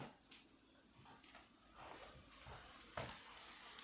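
Salmon burgers browning in an uncovered pan give off a faint, continuous sizzle with soft crackles and small pops scattered through it.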